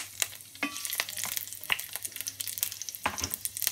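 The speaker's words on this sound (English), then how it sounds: "Just cook the garlic until it turns a little bit brown" Garlic sautéing in a pan for mushrooms, a soft sizzle punctuated by repeated sharp clicks and scrapes of a spatula, close and fairly quiet.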